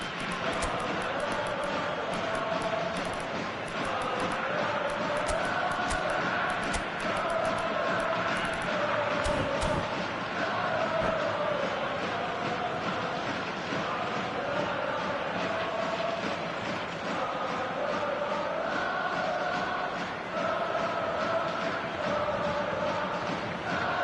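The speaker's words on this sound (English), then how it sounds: "it's applause all round us here" Crowd applause fills a football video game stadium, a dense, steady roar of clapping and cheering that continues throughout with no break.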